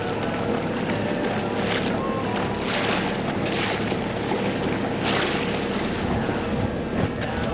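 A Tohatsu outboard motor drives a dinghy, a steady close engine drone mixed with heavy wind buffeting and water rush over the whole stretch.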